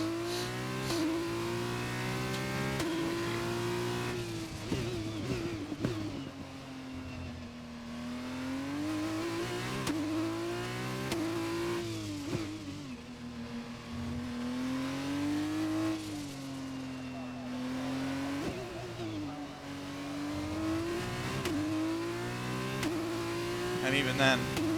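An F2 race car engine in F1 2021 at Azerbaijan drones continuously up close, its pitch rising and falling through gear shifts and long coasting stretches, under steady commentary from a man.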